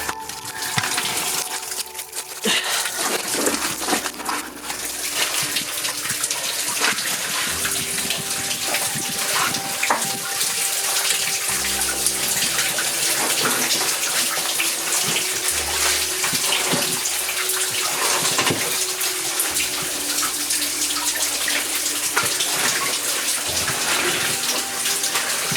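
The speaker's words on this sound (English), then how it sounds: "That's more water than usual because the amount of rain that we've just had" Water rushes steadily after days of heavy rain, a continuous loud broadband roar of gushing flow that holds nearly unchanged throughout.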